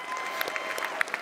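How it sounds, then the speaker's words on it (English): Brief burst of audience applause from a live TV roast crowd, steady clapping with a few sharp claps standing out. "can we get a big round of applause for all of Tim's success over the years"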